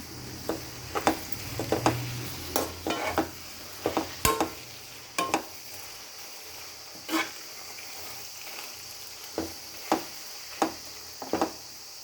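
A spoon stirs gongura leaves frying in oil in a pan, with scattered scraping knocks at an irregular rhythm over a faint steady sizzle, close by.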